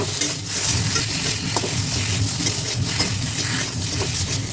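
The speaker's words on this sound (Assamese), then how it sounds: "এতিয়া হালধিখিনিও ভাজা হৈ যাব আৰু ঔটেঙাখিনিও" Constant crackling sizzle of turmeric and elephant apple (outenga) frying in oil, with occasional scraping of a spoon stirring the pan.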